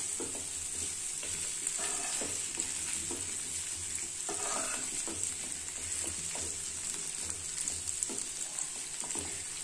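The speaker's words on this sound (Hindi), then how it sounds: "एक मिनट तक इसको अच्छे से फ्राई करना है इसी में कमल ककड़ी के टुकड़ों को" Lotus stem pieces frying with masala in a pan, a continuous high sizzle overlaid by repeated scraping and clinking of stirring, close and steady, no voices.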